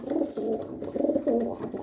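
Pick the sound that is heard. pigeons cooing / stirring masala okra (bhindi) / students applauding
pigeons cooing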